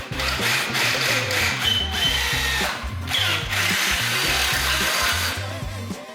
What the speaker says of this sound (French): Maintenant, on va percer le bâti pour pouvoir insérer des inserts